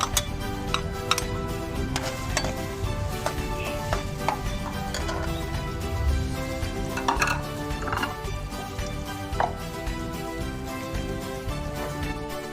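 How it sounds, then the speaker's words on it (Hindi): Ginger and garlic paste sizzles steadily in half a cup of hot oil, with frequent light clicks and scrapes of stirring throughout and no talking. "उसमें हम ऐड करते हैं अदरक और लहसुन का पेस्ट और इसे हल्का ब्राउन करेंगे"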